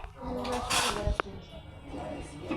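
Raw mango pickle is stirred in a pan, with metal spoon scrapes and clinks against the cookware, including a sharp knock, mixed with someone talking.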